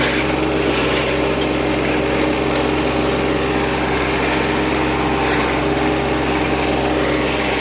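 A Chinese-made Mateng NEFL 95 mulcher runs on a tractor in an overgrown field, giving a loud, steady mechanical drone with a constant engine hum and faint chopping rattle throughout.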